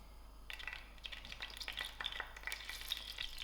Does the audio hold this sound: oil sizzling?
yes